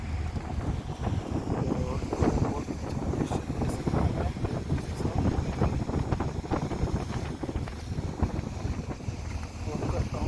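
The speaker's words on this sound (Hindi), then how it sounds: "मैं आपको दिखा रहा था कि ये शिप अभी डॉक होने लगा है" A ferry ship docks on the crossing from Denmark to Norway in strong wind: a continuous, loud buffeting roar of wind over the microphone mixed with low vessel rumble and water, steady throughout.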